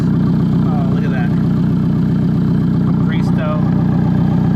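An Alfa Romeo 4C fitted with a Capristo exhaust idles close by, a loud, steady low rumble that runs the whole time while people talk over it.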